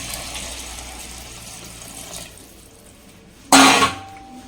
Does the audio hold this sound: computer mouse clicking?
no